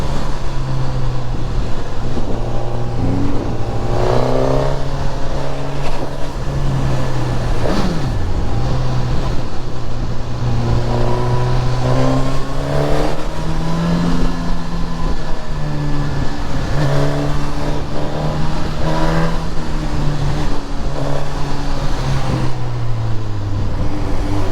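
Suzuki GSX-S 1000 motorcycle riding through city traffic on a gloomy day, its engine note droning steadily and rising and falling as it revs and accelerates, loud and close throughout with no talk.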